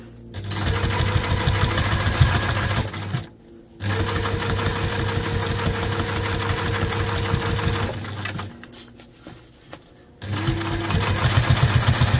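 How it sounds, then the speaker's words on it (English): A sewing machine top-stitches around the edge of fabric in rapid mechanical bursts, stopping briefly between runs, close and fairly loud with no talk. "we're just going to top stitch around the edge here, close the turning hole"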